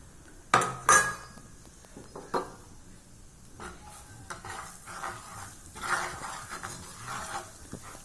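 Gram flour is stirred in hot ghee in a pan. A couple of sharp utensil clanks come first, then soft, quiet scraping and faint sizzling continue at close range with no talking.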